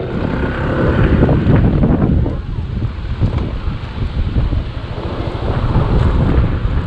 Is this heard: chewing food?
no